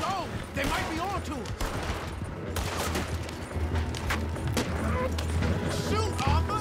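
Rapid gunfire in the Western video game Red Dead Redemption 2 during a wagon chase, repeated loud shots and bursts layered over rumbling wagon wheels and game music, with voices shouting between volleys.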